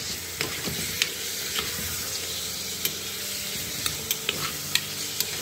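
Meat goes into a pan of frying onions for a Persian celery stew, giving a steady hiss of sizzling with scattered sharp taps and stirring clicks.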